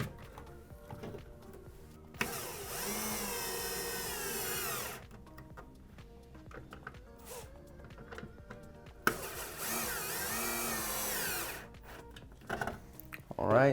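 A power drill drives screws into a drywall anchor box on a wall, two sustained whining bursts of a few seconds each, separated by quiet handling noises and brief speech.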